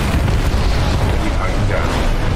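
Weapons and explosions in the shooter Titanfall 2 merge into a loud, continuous rumbling roar of blasts and booms that fills the whole stretch, with a voice faintly mixed under the din.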